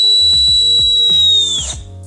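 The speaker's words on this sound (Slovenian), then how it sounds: "Zdaj, ko pride na rdeče, bi se mogla aktivirati piščalka." Low-pressure warning whistle on a compressed air cylinder shrilling as one steady loud tone over a rhythmic mechanical clicking, then fading out as pressure drops.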